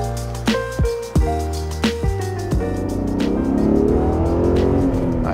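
BMW car engine driving, with a few sharp revs and gear-change bursts early, then a steadier, rising drone as the car pulls away, loud and close.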